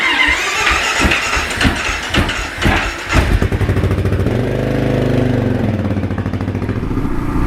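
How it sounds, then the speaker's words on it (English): A Gen 3 Kawasaki KLR motorcycle is cranked and catches, the starter's uneven clatter giving way to a steady, close single-cylinder idle that runs evenly to the end. "I can simply just turn the key on and hit the start button"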